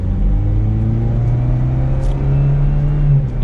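A 2021 Chevrolet Camaro 1LS in normal automatic mode accelerates under light throttle, a smooth steady engine hum that rises gradually in pitch, close and fairly loud with no talking.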